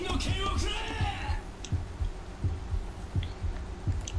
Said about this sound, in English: Why do I hear a constant heartbeat?